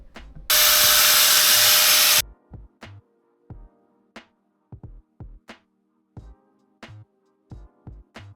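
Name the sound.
power tool cutting a car's brake heat shield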